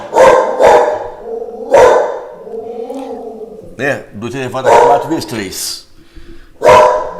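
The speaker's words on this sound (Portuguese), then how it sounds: "Desculpa o cachorro aí, vai parar aí." A pet dog barks loudly and close by in a home, sharp repeated barks and yips coming in bursts while someone speaks between and over them.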